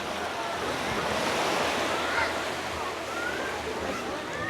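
Sea waves wash steadily at a beach resort in Tagnanan, Mabini, Davao de Oro, a constant broadband surf hiss with light wind and a faint voice in the background.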